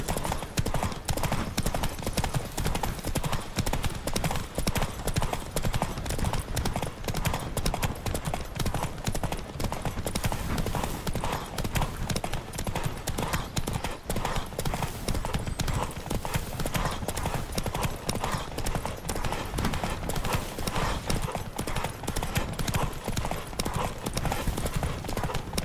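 A horse gallops hard during a race in The Witcher 3, fast continuous drumming hoofbeats with rushing noise, loud and close throughout.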